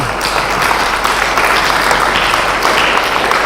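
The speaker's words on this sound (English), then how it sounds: "For a big clap for sir." An audience claps for a speaker at a motivational talk, a steady dense wash of applause running throughout at even loudness, with no speech over it.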